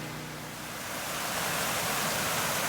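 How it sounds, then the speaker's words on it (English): Steady broadband roar of a waterfall tumbling over rocks on a clear creek, constant rushing water close by and growing slightly louder, with no voices. "And a view of the first set of waterfalls off the creek, very calming and beautiful."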